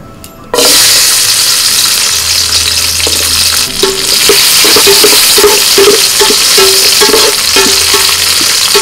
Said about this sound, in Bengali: কাজু কিশমিশ ভালো করে ধুয়ে রেখে দিয়েছি, এটা প্রথম ভেজে নেব